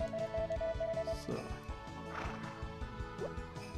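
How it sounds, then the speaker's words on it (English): A horse whinnies in the Harvest Moon farming game, a short bright call near the start over busy game music, followed by thumps and clatter. "I have to talk to my horse, I totally forgot about that."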